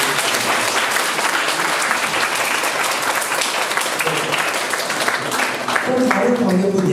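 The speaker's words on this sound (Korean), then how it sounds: "오늘 촬영 감독님께도 박수 한번 부탁드립니다" Audience at a Korean film screening Q&A applauds the cinematographer, a dense, steady round of clapping that fills the room for several seconds without a break.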